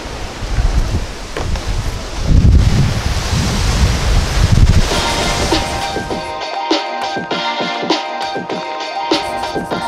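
Strong, gusty wind along London's Southbank buffets the microphone in heavy roaring bursts, then eases to a lighter rush broken by brief knocks and pulses.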